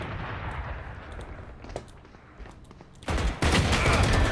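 Gunfire in a first-person shooter game, a few sharp shots and a sustained loud burst near the end, heard close with no talk over it.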